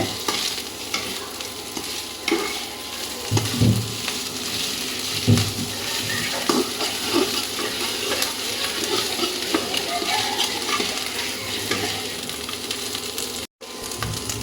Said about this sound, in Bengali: যে ভাজা ভাজা হয়ে গেছে আমার মাছের ঝুড়িটা, সুন্দর হয়ে গেছে।